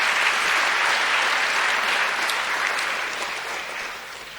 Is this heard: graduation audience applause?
yes